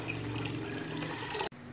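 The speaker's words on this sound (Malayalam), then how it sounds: "ഇനി ഇതിലേക്ക് വെള്ളം ചേർത്ത് കൊടുക്കാം." Water pours steadily into a cooking pot holding wheat and chicken, a continuous close splashing rush that stops abruptly near the end, with no talking.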